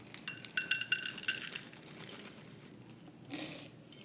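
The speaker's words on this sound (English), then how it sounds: "add half a cup of sugar-free chocolate chips" Sugar-free chocolate chips poured into a glass bowl for keto chocolate bread, a quick run of light clinks and rattles near the start, then a quieter pause and a brief soft rustle.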